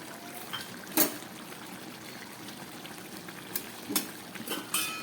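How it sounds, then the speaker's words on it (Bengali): Dried loitta fish curry simmers in a pan, giving a faint, steady bubbling hiss broken by a few soft pops and gurgles. "তরকারিটা একদম ফুটে উঠেছে"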